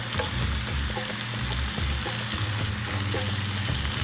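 Zucchini and chicken fillet stir-frying in a pan, a steady loud sizzle with scraping and clinking of a utensil as the pieces are stirred, no voices present.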